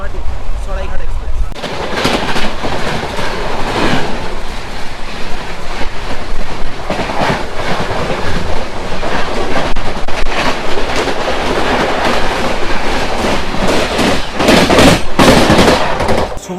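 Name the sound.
Howrah–Guwahati Saraighat Express train passing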